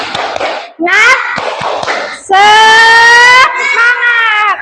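Indonesian elementary schoolchildren in a classroom perform the spirit clap, sharp rhythmic hand claps alternating with loud unison chanting and shouting from the group, close and energetic.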